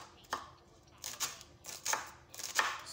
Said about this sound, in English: now I'm chopping the onions.